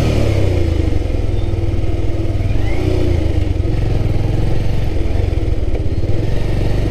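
A Bajaj Pulsar Neon 150 motorcycle engine running at high rpm on a mileage test, a loud, close, steady drone with constant mechanical rumble and no talk over it.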